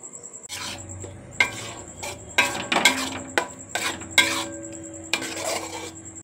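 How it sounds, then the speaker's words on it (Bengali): Yogurt is added to fried spices in a pan with the gas switched off for a dahi tarka, and a spoon stirs and scrapes against the metal in repeated close, clattering strokes with no talk. "এবার দইটা আমি এর মধ্যে দিয়ে দিচ্ছি।"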